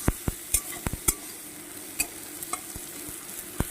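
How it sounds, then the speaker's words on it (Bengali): Vegetables with turmeric being stirred and sautéed in oil, a spoon knocking and scraping the pan in sharp irregular strokes over a soft, steady sizzle, close and loud with no talking. "এবার সুন্দর করে আর একটু কষিয়ে নেব"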